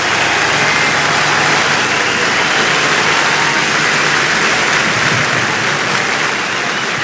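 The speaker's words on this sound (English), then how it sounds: "the applause goes up from the crowd" A huge crowd in a Paris city square during a 2015 march applauds, a loud, dense wall of clapping and crowd noise holding steady throughout.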